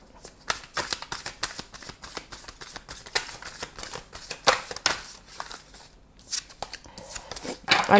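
A deck of oracle cards is shuffled by hand close up, with quick riffling bursts and soft flutters repeating over several seconds and a brief pause near the end.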